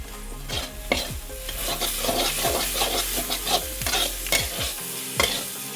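Okra, garlic and chilli powder fry sizzling steadily in a pan with fresh coriander as a spoon scrapes and stirs through it in repeated close strokes, no talking.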